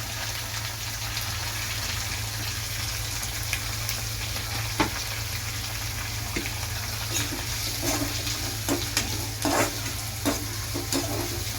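Chopped onion fries in hot oil in a pan during home cooking, giving a steady close sizzle throughout, broken by scattered clicks and scrapes from stirring, with no one speaking.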